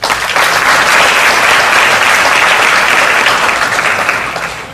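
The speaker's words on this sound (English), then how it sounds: "This is a truly remarkable achievement and deserves another round of applause." Sustained audience applause at a dance arangetram, a dense even wash of clapping from a large crowd that holds steady for several seconds and begins to fade at the end, with no talking over it.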